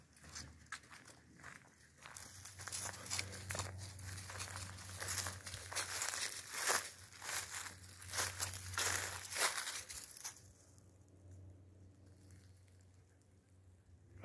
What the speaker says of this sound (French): Le bruit des feuilles avec Django.